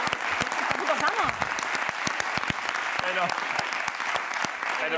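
A TV talk-show studio audience applauds in a dense, lively burst with sharp individual claps standing out, while voices and cheers rise briefly over the clapping.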